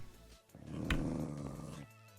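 A Minecraft dog growls in a short, rough burst lasting about a second, close and fairly loud, with no talking over it.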